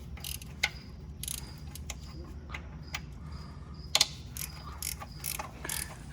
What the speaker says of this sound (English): we got the oil pump. We're about to remove it. So Brandon's just cracking them loose